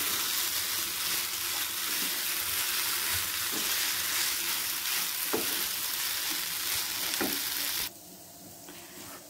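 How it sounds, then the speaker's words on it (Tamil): Cooked Maggi noodles stirred into egg masala in a hot pan, a steady close sizzle and frying hiss with soft scraping stir strokes throughout, dropping quieter near the end. "இப்போ நான் வேக வச்சு எடுத்த இந்த மேகி இதோட ஆட் பண்ணிக்கிறேன். நல்லா ஈவனாக மிக்ஸ் பண்ணி விட்டுடலாம்."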